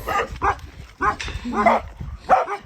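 Dogs bark and yip close by during a horse ride on a bridle path, several sharp barks in quick irregular bursts filling the whole stretch.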